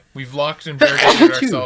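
A single loud, close sneeze bursts out right after a man's speech, sharp and explosive.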